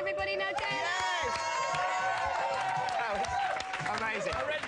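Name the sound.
audience applause for the boy band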